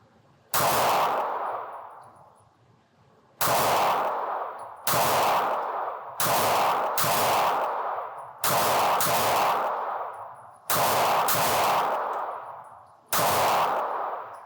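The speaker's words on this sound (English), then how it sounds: "Okay, let's shoot for the head now." Beretta APX A1 pistol fired in single shots, eight loud sharp reports spaced roughly one to two seconds apart, each followed by a brief ringing decay, close and with no talk.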